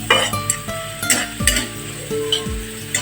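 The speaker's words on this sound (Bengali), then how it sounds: "আমি চুলায় একটা কড়াই বসিয়ে তার মধ্যে পরিমাণ মতো তেল দিয়ে দিচ্ছি আমি এখানে একটা পেঁয়াজ কুচি" Chopped onion fries and is stirred in oil in a kadai on the stove, a steady sizzle broken by several scraping stirs and clinks of the spoon against the pan.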